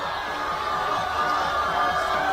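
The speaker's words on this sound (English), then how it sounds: "the crowd love it" A crowd at a bouldering World Cup final in Vail cheers a Russian climber, a steady, broad roar of voices sustained throughout without clear breaks.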